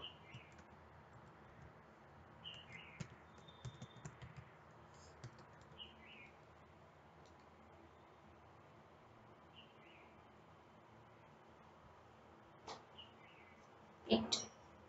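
A laptop keyboard clicks faintly as someone types, light sparse keystrokes scattered through the clip with a louder cluster near the end, while birds chirp softly in the background.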